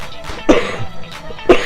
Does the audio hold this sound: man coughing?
yes